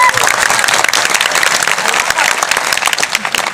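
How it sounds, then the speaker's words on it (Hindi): Loud, dense audience applause for a school principal and teachers at an event, many hands clapping continuously with a crowd murmur, no talk over it. "एक बार जोरदार ताली हमारे प्रिंसिपल फादर और टीचर्स के लिए"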